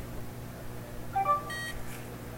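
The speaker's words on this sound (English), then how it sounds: "hopefully the LEDs on this reader will light up and it will beep" An NFC card reader gives a short electronic beep once, a clean tonal chirp with a quick second tone, over a quiet background hum.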